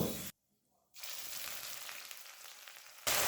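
Chopped onion hits hot oil with whole garam masala, sizzling and crackling softly at moderate volume, with a brief hush near the start and a louder burst of noise at each end.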